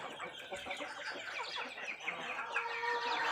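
Several chickens cluck and chatter continuously close by, a busy overlapping flock with no talking.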